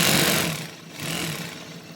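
Sewing machine stitching a straight seam on a Dayak Kenyah ethnic costume, a steady mid-pitched mechanical whir that swells, dips and swells again, heard alone at close range.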